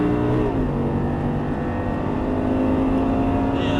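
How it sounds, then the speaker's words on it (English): An Audi R8 powers hard out of a corner on a race track, its engine droning loud and steady with a rising pitch and a shift change early on, continuous close engine roar throughout. "back in the gas coming out, all the way out real smooth, and upshift"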